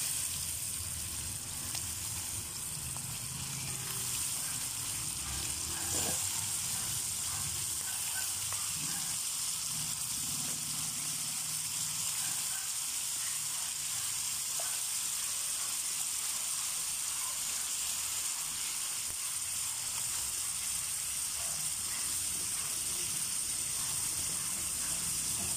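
Lean pork meat sizzles and fries steadily in a pan with a constant broadband hiss, punctuated by occasional stirring clatter, with no talking over it.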